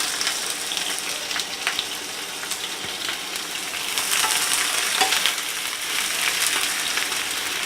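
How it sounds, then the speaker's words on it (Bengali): Eight medium sliced onions fry in hot oil for a broiler chicken dish, a loud continuous crackling sizzle that swells slightly halfway, with faint stirring clicks and no talking. "এটাতে এই মাঝারি সাইজের 8টা পেঁয়াজ বা অনিয়ন নিয়েছি এবং এটাকে স্লাইস করে কেটে নেওয়া হয়েছে এবং এটাকে ভেজে নেব।"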